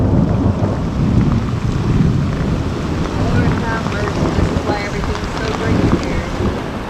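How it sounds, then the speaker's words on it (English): Heavy rainstorm pouring down in sheets with rumbling thunder, a dense, loud, continuous roar of rain and low booms that carries on throughout, with wind buffeting the microphone. "the water is literally coming down in sheets"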